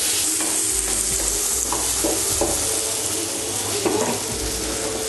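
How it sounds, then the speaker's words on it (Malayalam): Sliced tomato and chilli hit a hot pan of tawa chicken, giving a steady close sizzle with occasional stirring scrapes and clinks throughout, no talking. "നമുക്കിതിന് ഈ പാനിലേക്ക് സ്ലൈസ് ചെയ്ത ടൊമാറ്റോ ഇട്ട് കൊടുക്കാം"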